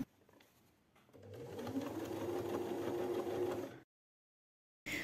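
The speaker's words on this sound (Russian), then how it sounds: "Прокладываю соединительную строчку." Sewing machine running a joining seam on a slipper, a close steady mechanical whir of stitching that builds up after a brief start, runs for a few seconds, then stops dead.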